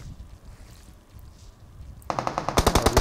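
Rapid automatic gunfire in PUBG Mobile comes in near the end, loud and close, in a quick regular burst after a stretch of low wind-like rumble.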